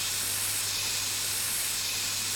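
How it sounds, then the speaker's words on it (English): A spray can hissing in the My Summer Car video game, a steady airy rush held evenly from start to end with no pauses, moderately close and quiet, alone with no voices. "We're also going to apply some spray."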